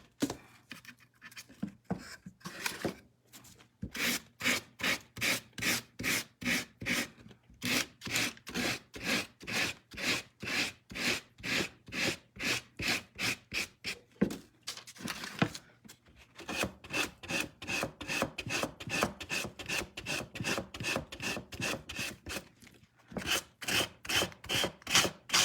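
A hand-held sanding block rubs back and forth over wood in a steady, fast rhythm of rasping strokes, close and loud, with a brief pause near the start and another near the end, no talk.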